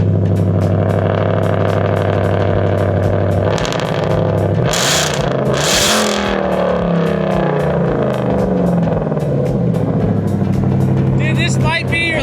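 A supercharged Ford Raptor truck engine of about 1,000 horsepower roars loudly nearby, its supercharger whine rising and falling as the engine revs, with short bursts of people talking over it.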